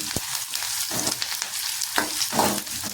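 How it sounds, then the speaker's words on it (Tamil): Hot tempering with plenty of curry leaves is poured into a Tirunelveli-style sardine fish curry, crackling and sizzling loudly and continuously up close, with bursts of spitting and no talk. "தாளிப்பு ஊற்றினா மீன் குழம்பு ரெடி"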